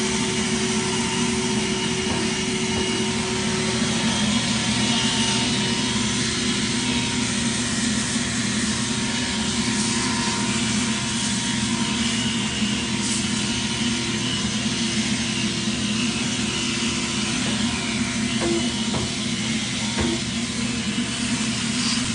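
Steady, loud whirring drone of a power sander stripping paint from a cast iron 1920s bathtub, running continuously without pause and with no voices.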